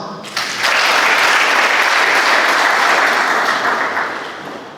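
A Catholic church congregation breaks into sustained applause at a sermon, a loud dense wash of clapping that starts abruptly, holds steady for several seconds and then fades slightly.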